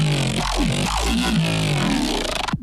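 A post-processed growl bass synth playing a thick, snarling sustained tone with rhythmic wah-like formant sweeps, loud and dry, cutting off abruptly at the end.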